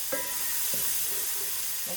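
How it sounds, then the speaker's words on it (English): Butter and garlic sizzling in a hot pan, a steady bright frying hiss broken by a few soft clinks and scrapes of stirring, close and alone without talk. "We're going to take our butter and our garlic, and we are going to cook that in the hot pan."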